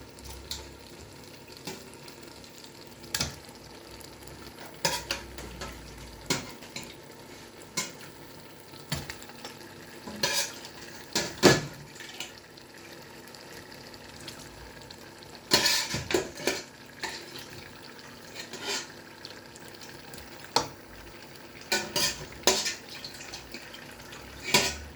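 A spoon stirs a tomato stew with crayfish and part-cooked meat in a pot, over a low simmering sizzle. Irregular scrapes and metallic clatters against the pot's sides recur throughout, close and fairly loud, with no talking.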